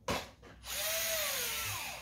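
A cordless drill-driver, freshly unboxed, gives a short click and burst, then spins up into a steady whine that runs loud and alone for over a second before easing slightly.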